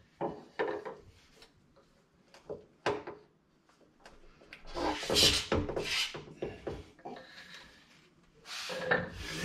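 A bolt is tightened on a sliding table saw, giving irregular close rubbing, scraping and clicking bursts of metal and wood contact, some longer ratcheting stretches in the middle.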